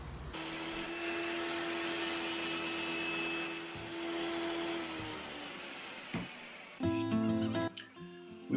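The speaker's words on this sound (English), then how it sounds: "we're going to be sawing some lumber, raw lumber that we got at Oak Hill Ranch" A bandsaw cuts raw lumber held steady in a log jig, with a loud, continuous blade whine and rasp for about six seconds, then the motor hums on alone while the pitch shifts.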